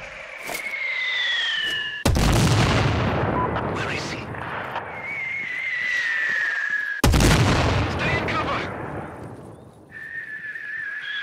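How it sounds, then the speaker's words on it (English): Incoming mortar shells explode in Sniper Ghost Warrior 3, two heavy booming blasts a few seconds apart, each with a sharp onset and a long rumbling decay, over steady battlefield noise and a high whining tone. "Mortars incoming!"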